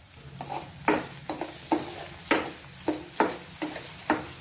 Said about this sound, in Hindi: हमें सुनहरे होने तक इसको फ्राई करना अच्छे से।